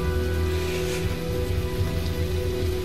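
Light rain pattering steadily in the video game Heavy Rain, a soft continuous hiss of drops with a faint low hum beneath, even and unbroken throughout.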